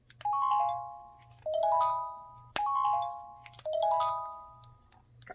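Flip tone number 4 from a T-Mobile Samsung SGH-T309 phone: a close, bright descending ding-dong chime played four times in a steady rhythm, each note ringing out briefly.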